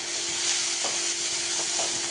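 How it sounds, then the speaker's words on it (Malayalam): Crushed garlic and shallots sauté in oil in a hot pan, giving a steady, even sizzle and hiss with a few faint stirring scrapes, close and unaccompanied by voices. "നന്നായി വഴറ്റിയെടുക്കട്ടെ കേട്ടോ."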